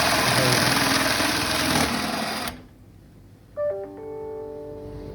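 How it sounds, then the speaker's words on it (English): A high-pitched drill motor whines steadily and close for a couple of seconds as a 20mm bit drills through a hole, then cuts off, followed by a brief ringing metallic tone. "we're using a 20mm drill bit to drill through the hole."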